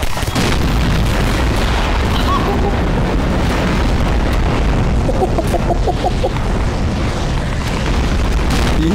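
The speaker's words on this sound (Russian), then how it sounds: "Вот это эпические взрывы." Loud, continuous booming bomb explosions in Garry's Mod roll one after another, dense and rumbling with no pause throughout.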